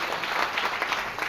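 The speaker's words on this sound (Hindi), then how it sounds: "एक जोरदार ताली सारे लीडर्स के लिए" Audience applause at a DXN camp gathering in Puri, a steady wash of clapping from a crowd, moderately loud and continuous throughout with no talk over it.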